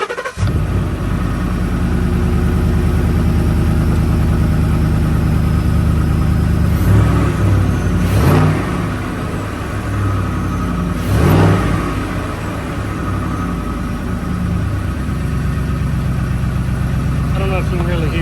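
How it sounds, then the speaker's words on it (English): A car with an S&B cold air intake and loud exhaust runs close by with a steady droning engine note and a few brief revs, as someone talks intermittently over it. "That exhaust is loud."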